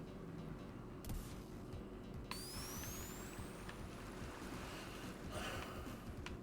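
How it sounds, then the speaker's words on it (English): Steady water ambience from a Sonic Robo Blast 2 coast stage: a continuous wash of rushing, surf-like noise, with a sharp click and a rising whistling tone partway through, and no voices. "Oh, and the water effect was a nice touch, by the way."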